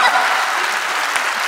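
Audience at a Hindi comedic political satire show applauding, a dense continuous burst of clapping, loud and close, with no speech over it.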